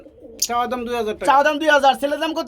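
Running pigeons coo at a market stall selling birds, with repeated throaty cooing phrases close by and a voice talking over and between them.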